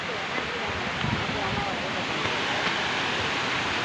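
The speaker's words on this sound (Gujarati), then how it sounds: "આ છે સાંઢીડા મહાદેવનો ઝરણો" Swollen monsoon water of the stream at Sandhida Mahadev pours in a steady, close, continuous rush with no pauses, a dense wash of splashing that fills the whole moment.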